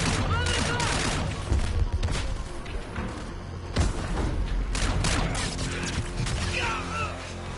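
Dense, continuous gunfire from a video game, with bursts and mechanical clatter layered into loud, chaotic combat noise that runs throughout, with faint voices mixed in.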